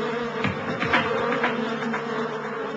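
A dense, steady buzz of many honeybees in a hive, loud and close, sustained throughout without pause.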